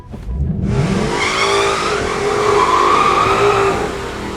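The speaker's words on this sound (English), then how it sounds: "So now press on the gas and just do a fat burnout, dude" A drag car does a burnout with its front wheels line locked, the engine revving hard as the tires squeal loudly and continuously, a close and powerful roar building over several seconds.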